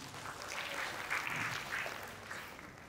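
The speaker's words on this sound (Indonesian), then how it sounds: "Tepuk tangan buat kamu yang udah pernah." A seminar audience applauds at a talk on love, friendship and growing up: soft, diffuse clapping at a distance that swells briefly in the middle and tapers away, with no voices over it.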